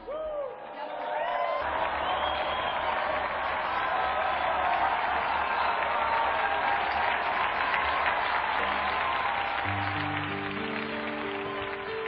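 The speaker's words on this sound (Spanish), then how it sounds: "Brindemos nuestro más cálido aplauso a San Sadoc y sus 128 compañeros" Sustained crowd applause for Saint Sadoc and his 128 companion martyrs, steady and dense throughout, with a low background tone entering near the end.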